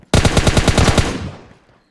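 Automatic gunfire from bots in a shooter video game: one loud, close burst of about ten rapid shots in under a second, trailing off into a fading echo, with no talk.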